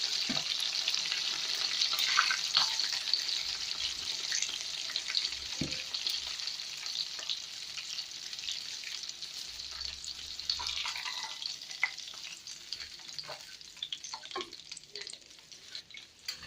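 Homemade brosted chicken deep-fries in oil with a steady, faint hiss and sizzle, broken by occasional soft clinks and stirring sounds, with no talking.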